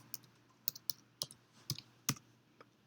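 Keystrokes on a computer keyboard while typing an Excel VLOOKUP formula, about eight sharp, separate clicks at an uneven pace, close and fairly quiet over a faint low hum.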